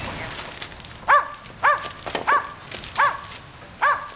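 A dog barks five times in a domestic home, sharp evenly spaced barks standing out clearly over quiet room sound.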